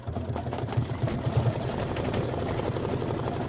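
Embroidery machine sewing a placement stitch, a rapid, even mechanical chatter of needle strokes with a low motor hum, close and steady throughout with no talk.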